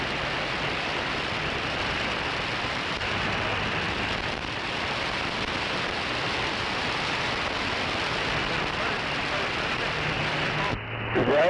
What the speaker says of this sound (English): Raining in Choctaw.